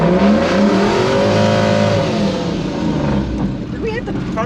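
A Toyota with a four-speed automatic gearbox (A340 family), manually held in first with a shift box, accelerates with a loud, rising engine drone and a revving whine, heard up close with some talk over it.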